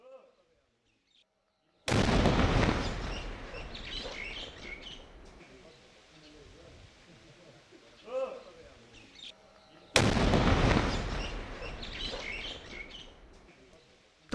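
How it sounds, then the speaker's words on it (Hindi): Two sudden, loud bomb blasts about eight seconds apart during a controlled detonation by a bomb disposal squad, each one booming and then fading into rumble, with birds chirping and faint voices in between. "कितना तेज धमाका"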